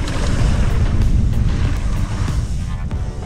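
Wind buffets the microphone while riding a mountain bike on a trail, making a loud, continuous low rumble that roars close up and stays heavy for the whole few seconds.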